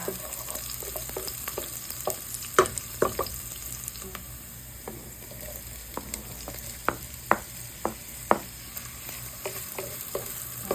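Hotdog slices fry in a pan with only a little oil for Filipino-style spaghetti, giving a steady crackling sizzle broken by sharp pops and the clack of stirring utensils. No voices.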